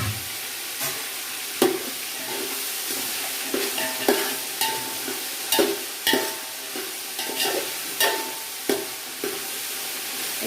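Vegetables sizzle and fry in a pan for bisibellabath while a spoon stirs them, giving a steady frying hiss with repeated sharp scraping and clacking strokes about every half second, close and fairly loud, with no talking.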